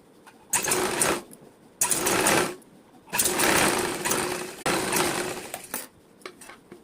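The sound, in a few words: sewing machine stitching cloth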